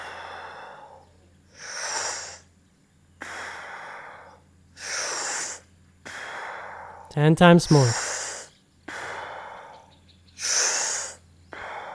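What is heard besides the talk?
deep breathing during Wim Hof breathwork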